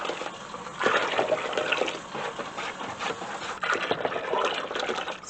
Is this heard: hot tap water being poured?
yes